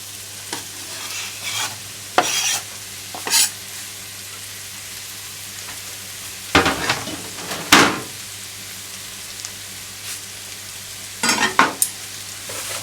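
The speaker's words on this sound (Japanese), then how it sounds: "一緒に炒めていきます" Onions and potatoes for bacon soup fry in a pot, a steady soft sizzle broken by several louder scraping stirs at irregular intervals, close and without voices.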